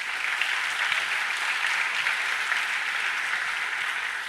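A church congregation claps steadily and densely for several seconds in a continuous, even wash of applause filling the room, with no voices standing out.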